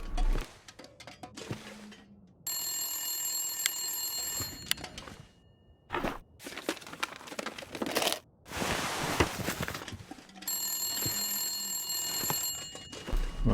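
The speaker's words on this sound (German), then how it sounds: "Tönt für mich, als würde das Telefon läuten." An old-style telephone bell rings in The Long Dark, story mode, in a building without power; two long bursts of bright, rapid ringing are separated by quieter ambient game sounds and footsteps.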